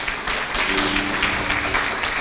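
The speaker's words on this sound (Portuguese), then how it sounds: "Vamos aplaudir o irmão do Dequinho ali" Brief, fairly loud applause from a church congregation during a Sunday service, a short burst of mixed clapping with some tonal sound running underneath.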